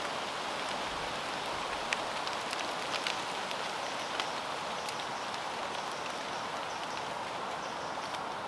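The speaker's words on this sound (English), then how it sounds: "Just had a shower of rain" Steady rain shower falling around a debris shelter with reflective foil roofing in woodland, a continuous soft hiss with scattered louder drips and taps throughout.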